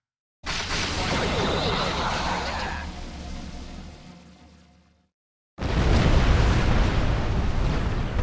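A missile launching and striking its target in a video game: a loud, sustained roaring blast that fades out over several seconds, a brief silence, then a second heavy explosive burst cuts in.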